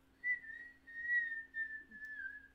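A person whistles one sustained, slightly wavering tone, quiet and close, holding it for about two seconds with small swells in loudness.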